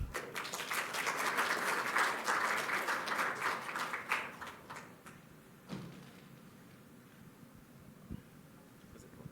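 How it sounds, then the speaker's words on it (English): At a seminar on sustainability in the jewelry industry, an audience gives a guest speaker a round of applause that swells for several seconds, then thins out to a few scattered claps and a faint knock. "May I have a big round of applause for him?"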